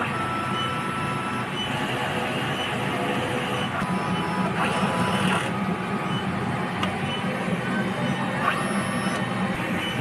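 A DTF printer in a Bohol print shop runs a head-cleaning cycle, giving a steady dense mechanical whir with faint intermittent clicks and beeps throughout, recorded close up without talk.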